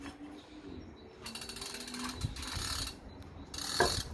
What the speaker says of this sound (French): Ensuite, on remet la courroie